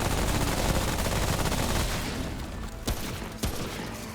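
Gunfire from a gun in the video game Remnant: From The Ashes: a dense, loud burst of rapid shots that fades out, followed by two separate single shots.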